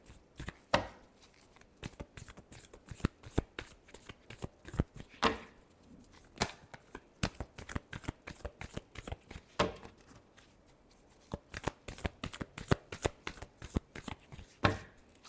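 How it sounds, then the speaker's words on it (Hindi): Tarot cards are shuffled by hand in quick, rhythmic riffling bursts, each a sharp papery flutter followed by brief pauses. The bursts repeat steadily and close up for about fifteen seconds with no talking. "Last shuffle."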